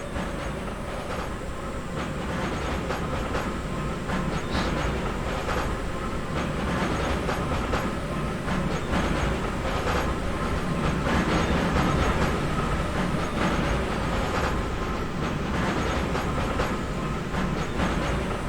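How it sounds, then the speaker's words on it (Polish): A train rolls past in an FPV drone simulator game, a steady, loud rumble with clickety-clack wheel rhythm sustained throughout, close and continuous with no talking. "pobawimy się w pogoń za pociągiem"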